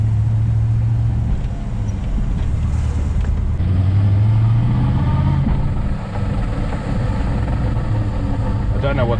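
An LS1-powered Nissan Patrol GU driving, with a low, steady engine drone and a rumbling, whining transfer-case hum throughout, close and loud, while a person talks over it.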